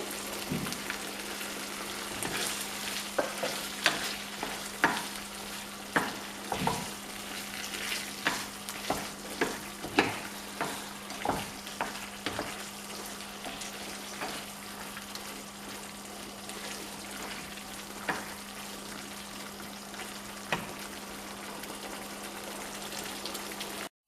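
Dum aloo cooks in oil with a continuous sizzle, while a spoon stirs and scrapes the pan in irregular taps and clinks. A steady low hum runs underneath, and no one speaks.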